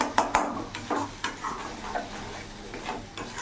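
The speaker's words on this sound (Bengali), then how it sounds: "এবার ভালো করে একসাথে সব মিশিয়ে নেব।" Spoon stirring spices into a potato and soybean curry in a pan, with repeated scraping strokes and light clinks over a soft background sizzle.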